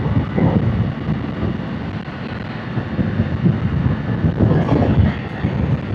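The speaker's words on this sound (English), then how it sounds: "that wind be blowing. Like I said, it's like a wind tunnel" Steady roaring wind rushes past a motorcycle rider at speed, a dense continuous buffeting that stays loud and unbroken throughout with no voices.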